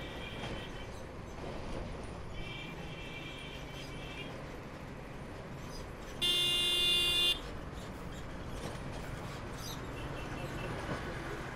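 A Yamaha MT-15 motorbike sounds one loud, sustained horn blast of about a second while riding a highway from Kolkata toward Purulia, after fainter honks, over constant engine and wind noise.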